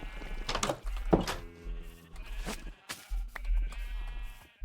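Minecraft sheep bleat repeatedly, several wavering baas close up with steady pauses between them, over a low rumbling background.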